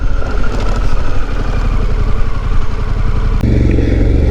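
Motorcycle riding along, a loud, close, steady engine rumble with a throbbing pulse and wind noise, shifting in tone briefly near the end.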